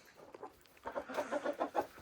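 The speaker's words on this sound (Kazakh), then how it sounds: "Осы қазір бізде қорада мына тауықтар уже туып жайлап бастап отыр." Hens in a coop cluck in a quiet, close series of short, rhythmic calls, sparse at first and then more regular, with faint rustling between.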